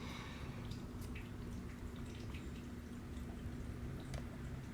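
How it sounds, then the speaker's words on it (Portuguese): A cat's water fountain trickles steadily indoors, a faint, continuous burble of running water dotted with soft drips, low and unobtrusive in a quiet room. "Esse barulhinho é a fonte de água do meu gato, que fica fazendo esse barulhinho noite e dia"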